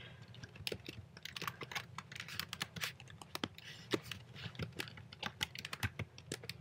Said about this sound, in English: now I'm going to type in the email of my personal email that I just set up